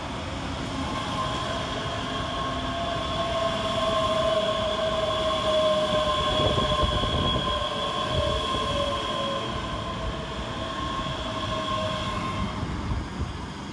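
Class 385 electric train rolling steadily through Motherwell railway station, a sustained loud hum with a high whine and rumbling wheels that swells in the middle and fades slightly toward the end.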